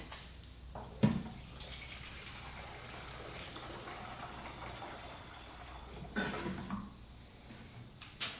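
Gasoline swishes and gushes inside the tank of a Honda CR250 dirt bike to flush it, a steady rushing slosh with sharper surges near the start, middle and end, and no talking.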